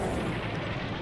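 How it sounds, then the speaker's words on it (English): Zombies exploding in the video game Blood: Death Wish: a loud, dense, rumbling blast that fills about a second with continuous heavy noise and no voices over it. "some zombies will explode"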